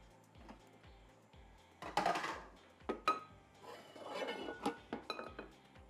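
A metal pan is picked up and set down in a home kitchen during cake baking, giving a few sharp clinks and knocks around the middle of a quiet stretch, close by with no talking.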